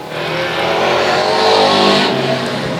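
Race cars roaring past at Sauble Speedway during a United 8s event, a loud, sustained engine drone that swells and fades as the pack passes close by.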